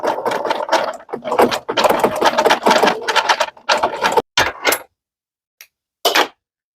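Home sewing machine running bursts of zigzag stitching for thread sketching on a fall-fabric art quilt, a steady mechanical whir that stops and starts several times, then falls silent with brief short bursts near the end.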